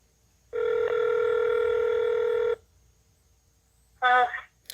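A telephone keypad tone sounds for about two seconds while a caller picks an option in a company's automated phone menu, followed by a brief second burst of tone near the end.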